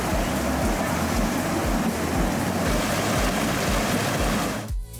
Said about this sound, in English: we wanted to stop and get some shots of all of the little waterfalls